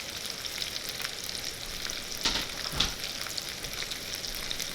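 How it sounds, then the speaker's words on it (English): Onions for French onion soup sauté in a pan with a steady, soft sizzle, broken by a couple of brief louder clatters from stirring. "get a little brown on them, get them translucent, get them nice and soft"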